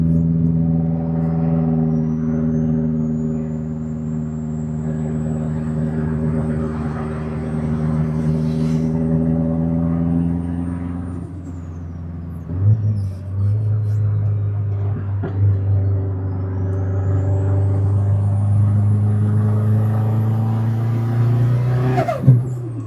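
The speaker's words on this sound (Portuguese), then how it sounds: "O barulho da turbina tá bem da hora." Turbocharged Subaru Bug engine revving on a tuning session, sustained engine drone rising and settling with a high turbo whistle sweeping above it, a brief dip mid-way then revs climbing again, loud and close.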